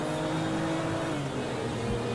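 Engine of a Ford 3600 tractor in GTA 5, a steady loud motor drone with low harmonic hum running continuously throughout, with no talk.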